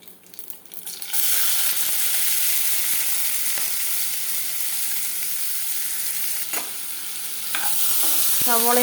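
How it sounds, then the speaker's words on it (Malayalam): Chopped onion and three green chillies fry and get stirred in a hot pan for soya chunks keema masala, a steady loud sizzle after a brief quieter start, with scraping stirs near the end. "സവോളയും പച്ചമുളകും കൂടി ചേർത്ത് കൊടുത്ത ശേഷം നന്നായിട്ടൊന്ന് ഫ്രൈ ചെയ്തെടുക്കുക"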